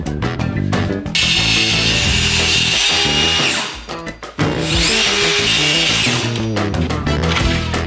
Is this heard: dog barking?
no